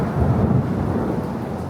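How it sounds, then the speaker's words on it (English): Thunder rolls over Marrakesh on a stormy night, a brief deep rumble with rain hissing steadily beneath, no voices present. "The sound of thunder combining with a call to prayer is something I'll never forget."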